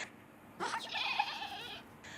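Goats at a horse rescue farm give one drawn-out, wavering bleat, close and fairly loud, with no talk over it.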